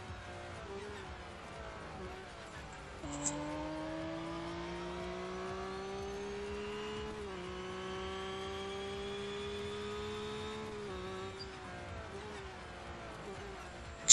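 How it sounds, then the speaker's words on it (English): Flat-four car engine in the Real Racing 3 mobile game, starting with a quiet idle, then a steady drone that rises and shifts pitch through gear changes over the run, fairly faint and with no talk over it. "Just listening to the flat four."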